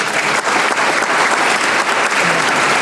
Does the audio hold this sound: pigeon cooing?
no